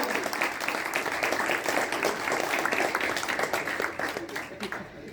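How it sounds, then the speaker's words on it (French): A crowd at an awards night applauds steadily for a guest, dense clapping heard from some distance at moderate volume, with voices mixed in underneath. "Je voudrais aussi qu'on fasse une main d'applaudissement pour Frank"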